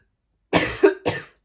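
Someone coughs close by indoors, three quick rough bursts in a row, then silence, with no talk.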